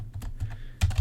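Fast typing on a computer keyboard, a quick run of crisp close key clicks with a couple of heavier strokes near the end, no talking.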